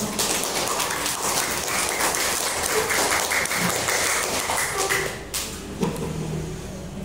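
Applause from an audience at an elementary school speech event, a steady wash of many hands clapping that fills the clip, thinning slightly near the end.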